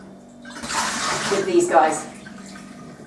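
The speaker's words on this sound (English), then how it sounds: "you'll see quite a lot of water initially dripping out" Water drains in a splashing, trickling rush from soaked items hung over a door, rising and then fading within a few seconds, while a person speaks briefly over it.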